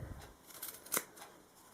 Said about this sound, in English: And then simply snip your way through